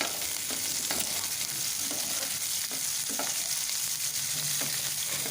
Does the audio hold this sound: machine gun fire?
no